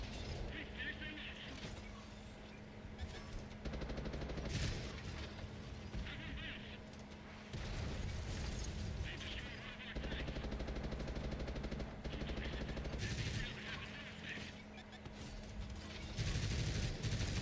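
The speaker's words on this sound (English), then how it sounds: "The sound of the machine guns now is super satisfying since that machine gun update." Heavy machine gun fire from tanks in World of Tanks on console, long bursts of rapid crackling shots with short pauses between them, loud and close.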